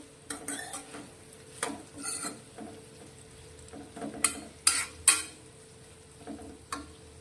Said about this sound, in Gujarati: તો વચ્ચે વચ્ચે આ રીતે આપણે હલાવશું અને તેને ઢાંકી અને થવા દઈશું